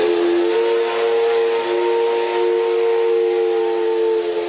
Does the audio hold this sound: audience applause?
no